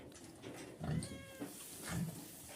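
A cat meows twice, close and fairly clear, in a farmyard setting with pigs, over steady low background noise and no talk.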